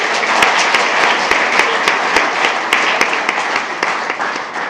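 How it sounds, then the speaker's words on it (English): Loud, close applause at a school board meeting for the parents of student athletes, with a thick wash of clapping and sharp individual claps standing out throughout. "So they deserve a round of applause as well."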